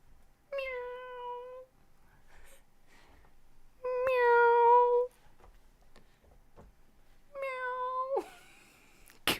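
A man imitates a cat, giving three drawn-out, whiny meows with strong harmonics, each about a second long and separated by pauses, close and fairly loud. A brief burst of noise follows the last one.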